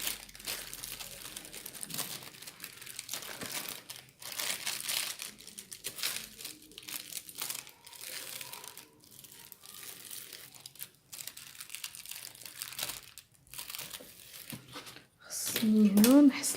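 Fabric for a basic sewing pattern is folded and handled up close, giving soft rustling and crinkling that rises and falls steadily, heard under someone talking throughout.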